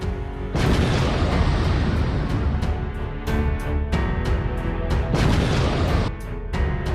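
Cartoon explosion as a plane is blown up: a sustained, loud, dense roar of blasts and rumbling booms that swells and dips for several seconds without pause.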